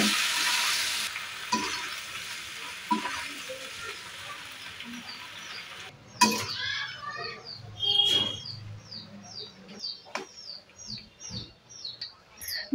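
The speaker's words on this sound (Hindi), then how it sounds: "पास्ता ऐड करेंगे। इसे अच्छे से मिक्स करेंगे।" Macaroni pasta is stirred in a pan, a dense sizzle for the first few seconds followed by scattered scrapes and clinks, while birds chirp in the background.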